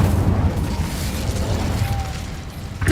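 A fire spell cast in the video game Hogwarts Legacy bursts into a loud, roaring whoosh of flame that rumbles steadily for a few seconds, ending in a sharp crackling flare.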